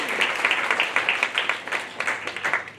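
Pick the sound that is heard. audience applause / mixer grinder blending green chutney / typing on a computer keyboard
audience applause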